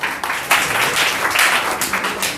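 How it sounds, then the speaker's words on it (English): Clapping from a school audience at an Independence Day program as a student comes up to recite a poem; a short burst of close, fairly loud applause from a modest group, uneven and lively, without speech. "Please use a round of applause for her."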